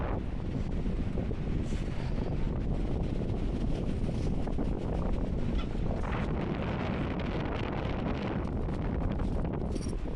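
Wind buffets a microphone on a seafront during a bike ride, a loud, constant low rumble and rustle with gusty surges and no talk.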